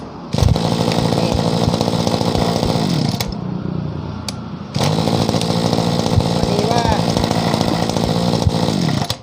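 A Stihl FS26NL brush cutter engine runs loud and close after starting, with a harsh buzzing rev that drops briefly to a quieter idle before revving strongly again.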